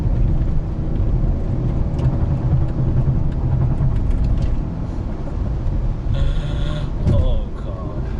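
Engine of a Proton Waja car revving in steady, loud broadband rumble throughout, with a brief higher-pitched rise near the end as revs climb.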